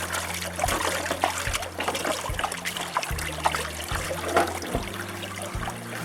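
Water trickles and dribbles steadily through a gold mining sluice being cleaned out at a creek in Washington State, with close splashing and pulsing low rumbles under the flow.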